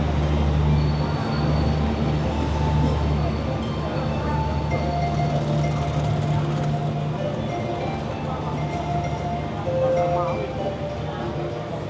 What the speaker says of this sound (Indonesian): Ini kereta belum berhenti udah dibuka pintunya